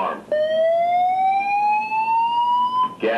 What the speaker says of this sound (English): Gas detected.